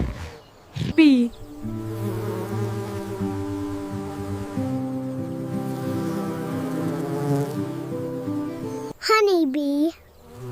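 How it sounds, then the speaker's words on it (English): Bee buzzing in a steady, loud drone with harmonic layers, running on its own for about eight seconds between short spoken interjections. "Bee."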